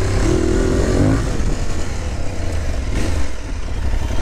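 An Aprilia Tuareg 660 motorcycle (2022) revs hard as it accelerates on an off-road ride, a loud, steady engine roar close by with no talking.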